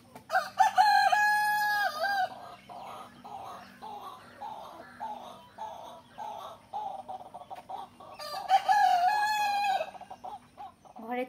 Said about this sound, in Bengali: ওই যে আমার মুরগি চড়ছে।